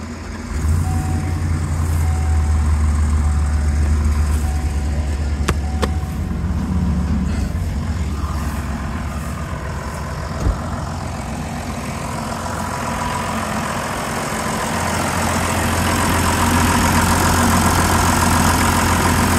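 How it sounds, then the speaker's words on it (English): A farm tractor engine idles outdoors after a spraying run, giving a steady, unbroken low rumble with a constant hum for the whole stretch and no voices. "Let's leave the tractor sit out here."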